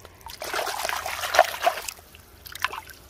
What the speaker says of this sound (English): All right, I'm gonna wash it off.